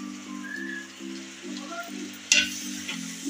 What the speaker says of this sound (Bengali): দিয়ে আমি ভালোভাবে নেড়ে চেড়ে কষিয়ে নেবো।